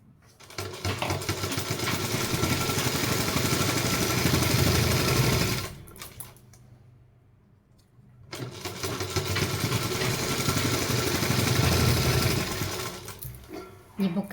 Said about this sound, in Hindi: अब आप इस कपड़े को फोल्ड करके एक सिलाई इसके ऊपर से लगा दीजिए इस तरीके से।